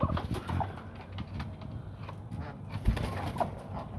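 Large hill-breed laying hens in a coop, giving soft, low clucks and murmurs scattered across the clip at close range, with light background noise.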